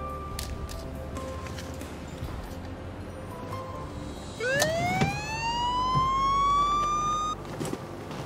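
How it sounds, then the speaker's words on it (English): A police siren fitted to a car winds up and wails in a rising tone for a few seconds over steady traffic rumble, fairly near, then cuts off abruptly. "The car was outfitted with a police siren and police lights."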